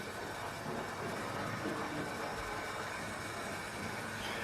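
A Bachmann GWR 56XX model tank locomotive, 6619 in BR black, running at fairly high speed on model track, a steady whirring rumble that stays even and continuous throughout.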